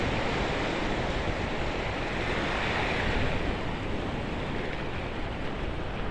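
Ocean waves wash ashore at low tide with the tide going out, a steady broad roar of surf with light wind noise, continuous and fairly loud with no voices.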